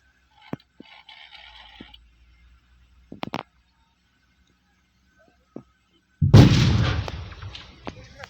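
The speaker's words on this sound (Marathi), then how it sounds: "आता तुम्हाला दाखवतो अशा पद्धतीने बार उडवला जातो" Rock blasting charge set off inside a well, heard as one loud, deep, close explosion that bursts out and rumbles on as debris falls, after several scattered knocks and clicks.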